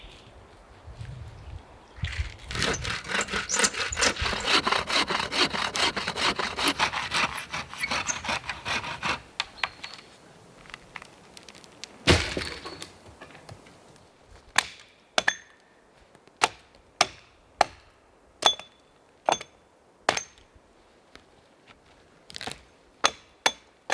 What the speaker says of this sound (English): So, some sawing and chopping, and we have